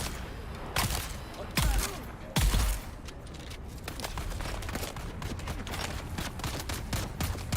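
Gunfire in a shooting video game, with several heavy bursts of shots over a dense, continuous battle din, close and loud.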